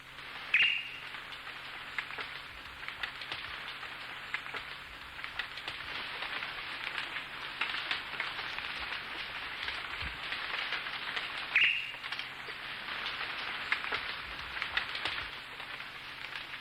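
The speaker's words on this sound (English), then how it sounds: "Moisture drips from the leaves" Moisture drips and patters steadily from leaves in a Belize jungle, a soft continuous hiss of dripping with two brief bird chirps standing out near the start and middle.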